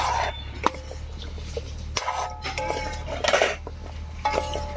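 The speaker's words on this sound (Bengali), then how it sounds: "এবারে বড়াগুলোকে শিরার সঙ্গে খুব ভালো করে মিশিয়ে নেবে" Flattened rice fritters being stirred into sugar syrup, a spoon clinking and scraping against the pot in repeated, uneven strokes, close and clear with no talking.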